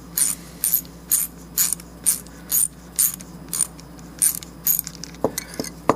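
A ratchet tightening a clamp during a plastic welder repair, clicking in roughly ten evenly spaced bursts, then a few quicker, lighter clicks toward the end, close and clear with no talking.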